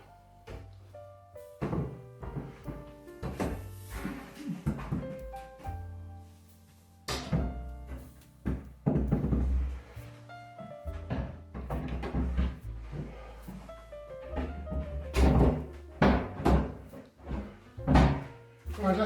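Wooden door being test-fitted into its frame opening, with a series of irregular wooden thunks, knocks and bumps as it is pushed and shifted into place, fairly close, with a voice talking in between.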